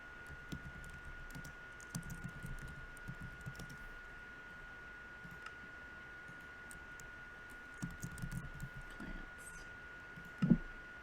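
Quiet, close computer-keyboard typing in scattered bursts of light clicks while writing a Minecraft sign, with pauses between and a faint steady hum underneath.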